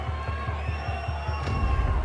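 A boxing crowd at a ringside Usyk event shouts loudly and continuously, a dense roar of many voices with steady low thumps running underneath throughout.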